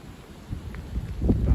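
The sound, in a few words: gusty northwest wind blowing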